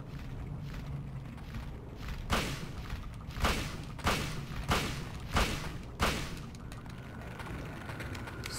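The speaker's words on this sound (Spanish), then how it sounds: "Le voy a disparar sin más" Gunshots fired at a boss in the PlayStation game Silent Hill, about six sharp, loud shots spaced roughly a second apart over a low rumbling game soundtrack, with no voices.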